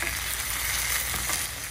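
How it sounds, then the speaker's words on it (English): Eggplant slices fry in olive oil in a pan, giving a steady, close, bright sizzle that holds evenly throughout with no voices. "I'm going to finish frying these"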